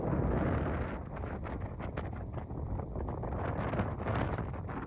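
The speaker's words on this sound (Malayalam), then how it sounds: "ഏറ്റവും ടോപ്പിലായതുകൊണ്ട് ഇതിൻ്റെ പടിഞ്ഞാറ് സൈഡിൽ നിന്ന് അടിക്കുന്ന കാറ്റ് ഭയങ്കരമാണ് കേട്ടോ" A strong west wind sweeps across a hilltop fort, roaring and buffeting hard against the microphone in steady, slightly surging gusts, loud and close, with no voices.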